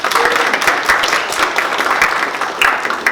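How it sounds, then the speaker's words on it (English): A crowd at a math storytelling event claps for itself, a full, continuous round of applause heard close and alone for a few seconds. "give yourselves a round of applause"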